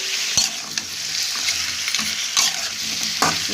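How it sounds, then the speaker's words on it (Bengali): A fish head being stirred in a frying pan with ginger paste and spices, continuous close sizzling with sharp spatula scrapes repeating every second or so, no voices. "মাছের মাথা দিয়ে এবার ভালো করে নেড়ে নিই।"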